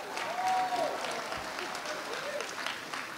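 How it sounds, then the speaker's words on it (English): An audience gives a round of applause for a choir after a carol performance, broad continuous clapping with a few faint voices and whistle-like tones rising above it. "Let's give them a round of applause."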